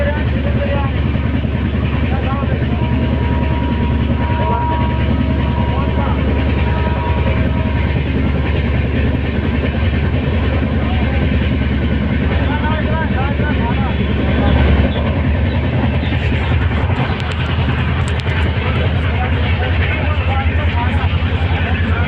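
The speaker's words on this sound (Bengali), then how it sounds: "এখন কোয়েম্বাদুর থেকে ট্রেন চলে যাচ্ছে।" A train pulls out of Coimbatore station with a loud, continuous rumble and rolling clatter, heavy and close throughout, while a voice talks over it.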